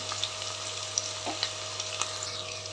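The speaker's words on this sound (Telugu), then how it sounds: "సన్నగా కట్ చేసి పెట్టుకున్న ఆనియన్ ఒకటి వేసాను కొంచెం గోల్డెన్ బ్రౌన్ లాగా వచ్చేలాగా వేగనిద్దాం" Thinly sliced onion frying in oil until golden brown for a palak meal maker curry, a steady soft sizzle with light crackles and a few sharp pops, close and alone.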